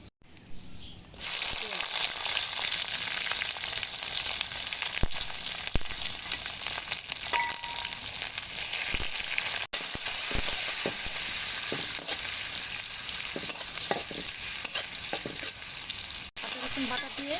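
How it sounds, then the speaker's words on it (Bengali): Homemade dried fish fries directly in hot oil, giving a loud, continuous sizzle from start to finish, broken by occasional sharp clicks and scrapes of stirring. "আমার হাতে বানানো শুটকি, যার জন্য আমি সরাসরি তেলের মধ্যে দিয়ে দিতেছি"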